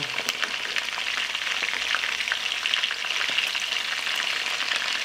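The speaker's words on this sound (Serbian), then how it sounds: "I ćuftice sad ovako pržimo sa obe strane po 3-4 minuta." Meatballs frying in oil with a bright, steady crackle and spitting pops, close and continuous throughout.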